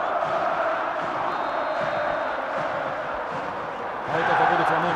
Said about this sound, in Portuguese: Veja que linda a festa faz a torcida do Flamengo nesse momento.